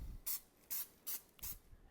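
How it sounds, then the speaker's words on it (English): Baking spray hisses onto a standard 9-inch pie plate in four short, evenly spaced bursts, close and clear with no talking. "little baking spray."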